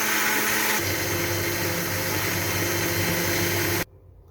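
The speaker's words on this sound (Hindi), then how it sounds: "अब हम इसको ब्लेंडर जग को ऑन करेंगे और इसको हम चलाएंगे।" A blender grinding watermelon whirs at high speed, its motor pitch shifting as it grinds, loud and steady for several seconds before cutting off abruptly.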